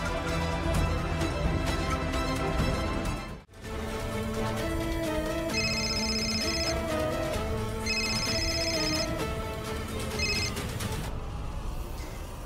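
A telephone rings steadily and loudly with repeating electronic ringtone tones, broken by one brief gap partway through, with no talking.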